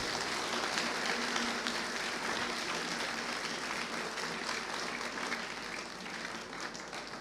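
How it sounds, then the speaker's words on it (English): An audience at a student orientation and sports meet evening programme claps for the competition judges, a steady, dense round of applause that holds evenly throughout and eases slightly toward the end. "Let's give a loud clap to our judges."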